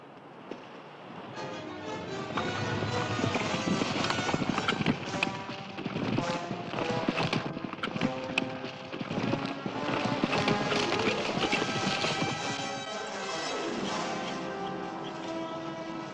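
Horses clip-clop with steady hoofbeats on hard ground in an Old West frontier town, blended with music and light background sound across the whole stretch.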